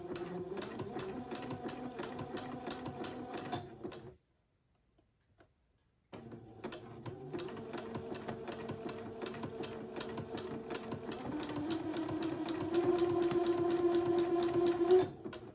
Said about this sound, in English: I will begin to zigzag this piece of entredeux to my lace insertion.